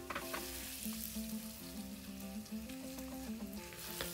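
Onions fry in a pan with a soft, continuous sizzle and light crackle, heard faintly with a quiet melodic tone running underneath.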